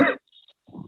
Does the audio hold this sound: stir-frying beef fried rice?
no